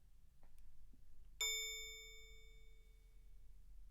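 A single bright bell strike rings out cleanly during a music show, its metallic overtones decaying slowly over a couple of seconds above a low background hum, preceded by a few faint taps.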